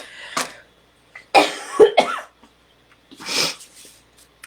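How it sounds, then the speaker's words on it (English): A person coughs several times in short, harsh bursts while still recovering from an illness with congestion and watery eyes, the coughs close to the microphone with quiet gaps between them. "I still have a cough"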